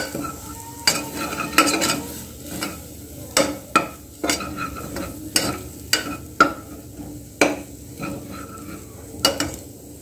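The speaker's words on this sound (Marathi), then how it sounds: "आणि गरम मसाला टाकूया आणि हे सुद्धा चांगलं मिक्स करून घेऊया या वाटणामध्ये" A metal spoon scrapes and clanks against a pan as garam masala is stirred into a sizzling spice paste for bitter gourd curry, with irregular sharp knocks over a soft frying hiss.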